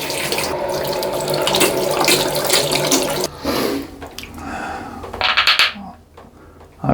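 A bathroom tap runs loudly and steadily to wet a face and a Gillette ProGlide Power razor blade, with splashing and hands moving under the stream before the flow breaks up and stops.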